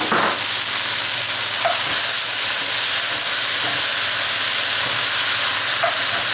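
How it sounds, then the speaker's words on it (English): Bacon and tomatoes sizzle in a pot for a beef chuck roast, a steady hiss under a few soft knocks and stirring sounds, with no talking. "Okay, the bacon goes in. The tomatoes go in."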